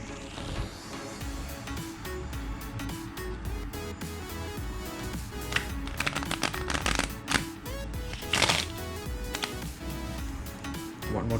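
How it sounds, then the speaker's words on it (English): A deck of playing cards is riffle shuffled over and over, giving dense rapid flutters of papery clicks that come in repeated bursts, close and fairly quiet, with no talking. "Next trick is called the riffle shuffle. It's just a shuffling method for the deck of cards."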